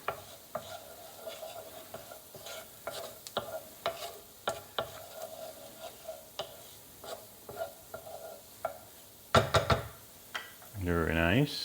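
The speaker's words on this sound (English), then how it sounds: "Give that a nice stir." Onions stirred in a pan with a light, soft sizzle beneath a series of close, irregular knocks and scrapes of the spoon, followed near the end by a short burst of talking.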